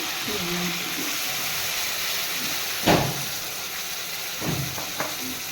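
Paneer curry with carrot and potato sizzles steadily in a pan as a little yogurt is stirred in, with a couple of louder scraping stirs over the constant frying hiss.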